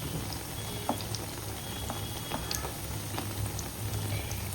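Bhajiye (fritters) bubbling and crackling in very hot oil in a home kitchen in Hyderabad, a steady dense frying hiss with scattered pops, close and moderately loud, no voices.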